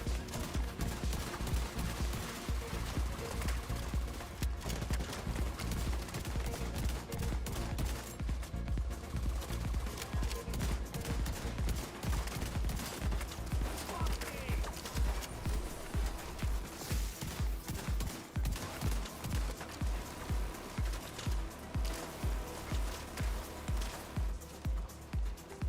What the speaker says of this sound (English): This shotgun is wild, man.